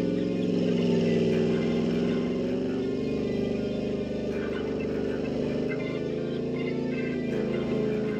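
Custom V8-powered Toyota Land Cruiser BJ40 pulling hard under acceleration, a steady low engine drone with a deep rumble held at an even, loud level throughout, no voices.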